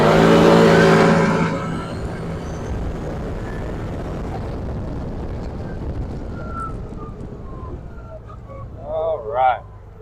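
A 2023 CF Moto UForce 1000 side-by-side engine sounds loud and close at the start, then fades to a steady low drone, with a brief rising rev near the end. A voice talks over parts of it.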